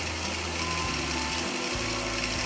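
Spinning wooden beads on a lathe running at about 1700 rpm are friction-burned with paper-backed sandpaper, giving a steady, close grinding whir with a rough rasping texture that continues throughout.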